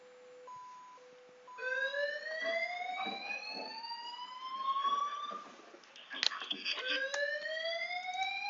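A manually triggered alarm in PC2AIR monitoring software beeps in alternating two-tone pulses, then switches to a rising, sweeping electronic wail that repeats, loud and continuous.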